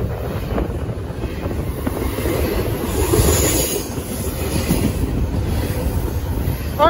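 A loaded coal train passes on the line, a loud continuous low rumble and rattle of wagons heavily buffeted by wind noise on the microphone throughout.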